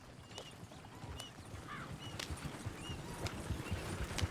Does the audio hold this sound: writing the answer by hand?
no